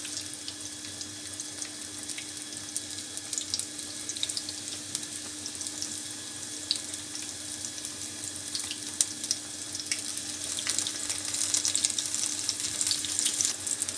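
Chilli pakoras frying in hot oil, a steady soft sizzle and bubbling hiss that holds evenly throughout and grows slightly louder toward the end, with no voices.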